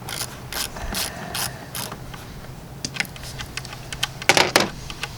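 A ratchet wrench backs bolts out of a 2014 Ford Explorer during an EVAP purge solenoid replacement, producing bursts of rapid clicking pawl ticks up close, with a louder cluster near the end.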